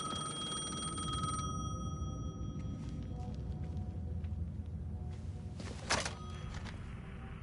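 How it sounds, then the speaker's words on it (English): A payphone rings in the video game Alan Wake 2, a steady electronic bell tone with sharp harmonic lines sounding clearly at first, then stopping abruptly, leaving low rumbling ambience and a brief scuffing noise. "The payphone was ringing."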